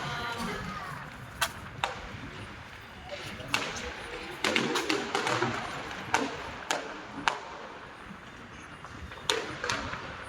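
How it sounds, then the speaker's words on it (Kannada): Diwali firecrackers burst around a house at night, giving a dozen or so sharp, scattered cracks at irregular intervals. Some are nearer and louder, others fainter, over a low background murmur. "ಎಲ್ಲೆಲ್ಲೂ ಪಟಾಕಿ ಹೊಡಿತಾ ಇದ್ದಾರೆ."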